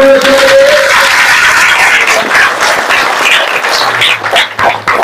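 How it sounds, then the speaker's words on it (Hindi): A crowd at a religious satsang gathering applauds loudly and continuously, a dense wash of clapping that thins slightly toward the end, with brief voices mixed in. "इसके जोरदार तालियां"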